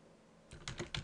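Quick keystrokes on a computer keyboard come in a short burst of four or five soft, close clicks over a quiet background.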